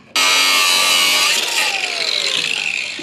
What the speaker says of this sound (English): I just use a grinder with a cutoff wheel.